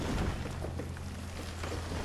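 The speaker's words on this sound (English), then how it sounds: "my gosh, it's raining again. It rains way too much in this game." Steady rain falls in the village-building game Banished, a soft continuous hiss with a low rumbling undertone, fairly faint and uninterrupted with no voices.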